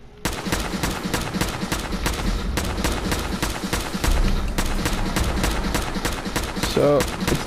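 Explosive rifle shots from the video game Fallout 4 fire as a rapid run of loud, sharp cracks across the whole stretch, each blast bursting with a booming low-end thump.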